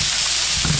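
Rice sautéing in a pan for fried rice, a short burst of bright steady sizzling hiss, close and loud, with no talking.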